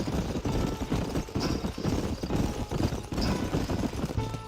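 Horses' hooves clip-clop steadily in the Red Dead Redemption video game, a dense rhythmic patter under a broad rumble of wind and ambient game noise.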